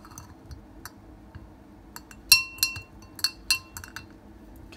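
An Apple Watch lowered into a glass of water gives a few sharp glassy clinks and taps against the rim, spaced over a couple of seconds, close and moderately loud over a quiet room.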